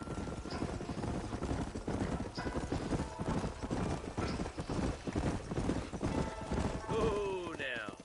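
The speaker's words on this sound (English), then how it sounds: "leave the horses here and follow me." Horses in the western video game Red Dead Redemption clip-clop along at a steady trot, the hoofbeats fairly loud and continuous under game sounds, with a whinny and shifting tones near the end as they come to a stop.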